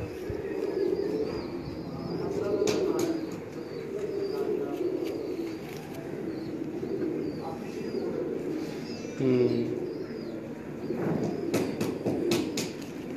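On a Lahore rooftop, golden pigeons give soft repeated coos mixed with a few chirps, while people talk nearby throughout.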